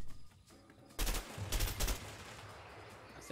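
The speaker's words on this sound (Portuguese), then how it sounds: "Você atirou bem na hora, que eu tava bem na cabeça dele." Gunfire in the video game A Way Out, a sudden loud burst of shots followed by several more rapid cracks that trail off, with no talking.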